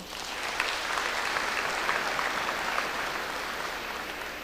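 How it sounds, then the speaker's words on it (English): Crowd at a college commencement ceremony claps steadily, a dense, even patter of many hands sustained throughout at moderate loudness, with no talking on top. "Let's hear your claps."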